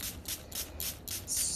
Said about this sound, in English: I just have like a spray bottle here with some water